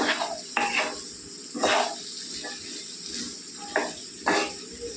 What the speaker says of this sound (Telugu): బాగా కలిపేసుకోవాలండి ఉల్లిపాయలని బొబ్బర్లు కలిసేలాగా.